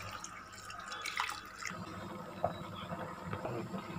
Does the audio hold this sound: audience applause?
no